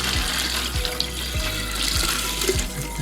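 Running tap water pours steadily over wheatgrass seeds being rinsed in a sink, with a continuous wash and a few soft rhythmic knocks beneath it, close and fairly loud.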